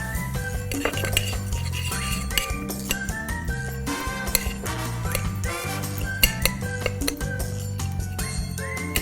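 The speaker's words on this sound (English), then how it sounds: "mixing everything together." Breadcrumbs, salt and pepper are mixed in a bowl for braciole, with a utensil clinking and scraping busily against the bowl in quick, irregular strokes over a steady low background.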